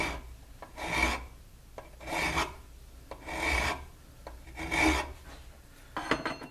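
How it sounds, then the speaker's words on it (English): A file rasping down a protruding part of a dual-18650 box mod, five slow back-and-forth strokes in an even rhythm, close and clear with short pauses between passes. "So you can grind it down as far as you want, and you can round it off"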